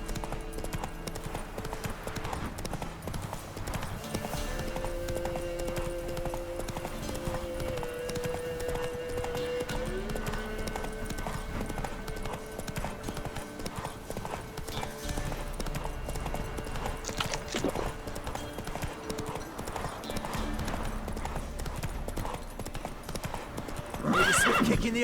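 Geralt's horse Roach gallops in The Witcher 3, a steady, close drumming of hooves running throughout over an ambient game soundscape, with a brief neigh and faint voices mixed in.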